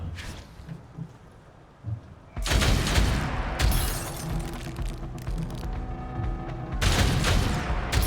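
Gunshots and impacts in the turn-based game Othercide: a few faint clicks, then a loud crashing burst with shattering, booming tails that fade, and a second heavy burst near the end.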